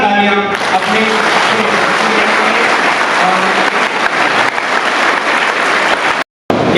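A school seminar audience breaks into loud, dense clapping for a speaker while an amplified voice briefly talks over the start, then the applause cuts off abruptly near the end.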